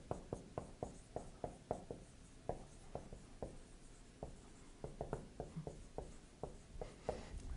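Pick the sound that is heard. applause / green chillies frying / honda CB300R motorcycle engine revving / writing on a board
writing on a board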